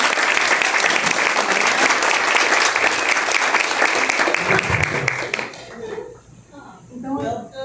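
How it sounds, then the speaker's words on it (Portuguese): Audience applause for a professor at an arts lecture at a university arts centre, loud and dense for about five seconds, then breaking off into scattered claps and a few murmuring voices. "uma salva de palmas para nossa professora"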